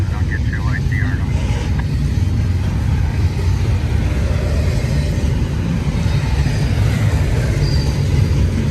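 A train rumbling past at a three-track rail meet, a loud, dense low roar that holds steady throughout, with a brief tonal horn-like sound near the start.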